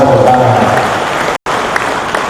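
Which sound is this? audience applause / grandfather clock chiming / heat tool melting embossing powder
audience applause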